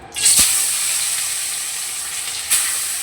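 Bata fish pieces hit hot oil with a pinch of salt: a loud, sudden hiss that settles into a steady close sizzle, with a second burst as another piece goes in.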